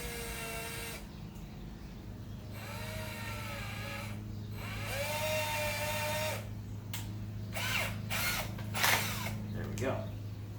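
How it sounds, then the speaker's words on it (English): A power drill whines in several bursts drilling out a hole in a solar still project, pitch rising as it spins up, over a steady low motor hum; faint voices are heard between bursts. "Now let's see if we can drill this out a little better."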